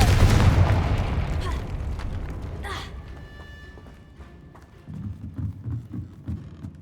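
A Confringo spell goes off in Hogwarts Legacy: a heavy, rumbling blast opens loud and fades, then a sharper burst cracks out a few seconds later, with lighter game sounds and footsteps trailing behind.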